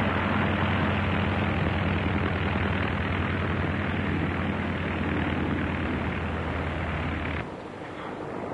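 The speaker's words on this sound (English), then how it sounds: "There's Dorothy's plane" A propeller plane's engine drones loud and close with a steady low rumble, then drops abruptly in level near the end as the sound cuts away.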